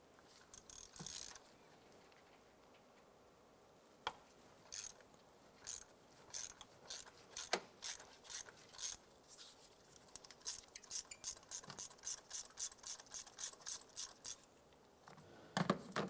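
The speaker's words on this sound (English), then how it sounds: "Let's go ahead and loosen that spark plug." Ratchet with a 16 mm spark plug socket on an extension loosening a spark plug on a 2011-2019 Ford Fiesta, close quiet clicking in short bursts that quicken into a rapid even series of ratchet clicks toward the end.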